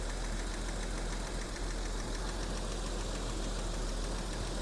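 A Jaguar XJ6 Sovereign with fuel system trouble idles with a slight splutter, a steady, close, loud engine drone with faint irregular knocks running through it and no voices.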